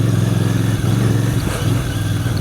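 Steady engine drone of a Royal Enfield Bear motorcycle being ridden on a trail, a loud, continuous low rumble with wind noise and no voices.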